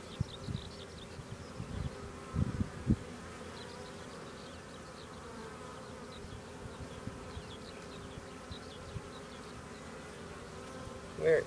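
Honey bees buzz steadily around an opened beehive being split into new colonies, a continuous close insect drone with a few brief handling knocks early on.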